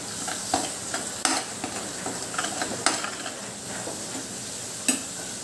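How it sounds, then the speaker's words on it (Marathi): Coconut and onion paste sautéing over a low flame for green moong dal curry, a steady soft sizzle broken by several sharp spatula scrapes and taps against the pan, close and fairly quiet, with no talking. "एक मिनिट आपल्याला चांगलं परतून घ्यायचं आहे कमी फ्लेमवर"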